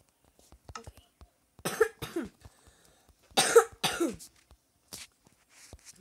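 A person coughing repeatedly, several harsh close bursts in uneven clusters separated by short quiet gaps, with some throat clearing.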